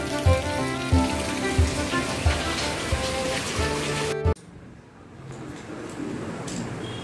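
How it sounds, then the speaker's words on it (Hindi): Steady, dense rain from a sudden downpour pours down loudly for several seconds, then cuts abruptly to a quieter, softer patter of rain. "अचानक से बारिश आ गई।"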